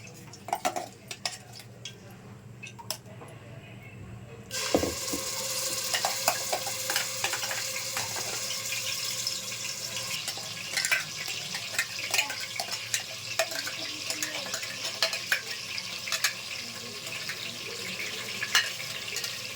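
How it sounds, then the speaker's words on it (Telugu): A paste of onion, tomato and green chili hits hot oil in a pan. Quiet clinks come first, then a sudden loud sizzle that stays steady, with spoon scraping and stirring close by. "ఇందులో మనం ఈ ఉల్లిపాయ పేస్ట్ అంతా వేసేసుకుందాం."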